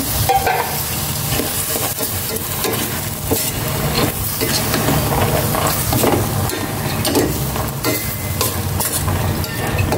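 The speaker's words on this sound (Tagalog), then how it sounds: "Ilagay ko na rin itong munggo para malisa ko rin siya." Mung beans sauté in a pan, with steady loud sizzling and frying and a spoon or spatula stirring and scraping throughout, close up.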